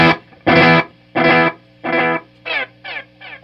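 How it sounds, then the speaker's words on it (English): A Belle Epoch Deluxe pedal on its Echoplex tape echo program repeats a bright, shimmering sound in evenly spaced bursts that gradually grow quieter and more smeared, with no talking. "So the Echoplex tape sound is a bright shimmering sound, especially as it repeats out"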